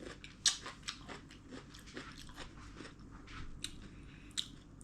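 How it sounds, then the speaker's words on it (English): Crunchy stir-fried prickly chayote with beef bitten and chewed close up, giving a sharp crisp crunch near the start and a few softer crunches and chewing sounds after, quiet throughout. "See, when you bite into it, still have that crunchiness."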